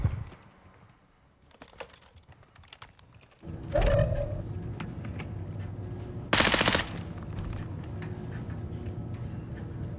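Gunfire rattles in Call of Duty Modern Warfare II's DMZ mode, with a loud automatic burst partway through over a constant background of rapid keyboard clatter; sharp shots and game effects punctuate the scene, and no voices are heard.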